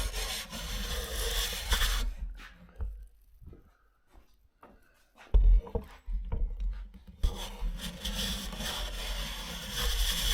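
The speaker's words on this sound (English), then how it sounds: "So I'm going to do most of the edge joining by hand and get these nice and straight." Hand planing along a board edge for edge joining, rasping strokes in steady bursts with a quieter pause between them, close by.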